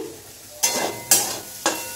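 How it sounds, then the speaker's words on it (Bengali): Bitter gourd and potato sizzle in hot oil, with three sharp stirring scrapes of a spatula at regular intervals, close and clear, no talking. "উচ্ছে আলুটা ভাজা বসিয়ে দিয়েছি"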